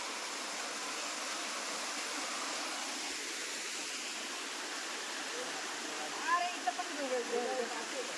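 A waterfall's rushing water makes a steady, even roar heard from nearby on a hill-country trip, holding constant throughout, with a few faint higher sounds near the end.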